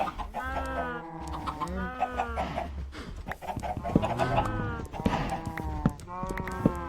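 Chickens clucking and a rooster calling in the Minecraft video game, with repeated bird calls overlapping in a lively farm chorus, fairly close and steady throughout, alongside some lower animal sounds.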